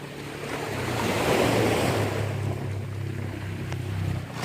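Rough sea surging onto a beach, a continuous broad roar of breaking surf that swells and eases, mixed with gusty wind buffeting the microphone.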